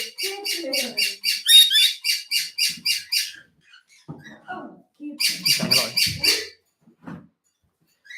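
Pet parrots call during a live stream, giving rapid bursts of repeated high chirps in two clusters with quieter squawks between, close and loud, and a person's speech is faintly mixed in.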